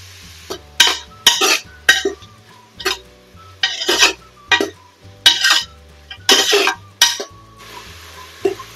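Onion sautéing in oil in a pan on high flame, stirred with a spoon: a steady run of sharp scraping and clinking strokes against the pan at a regular rhythm, close and loud over a soft sizzle.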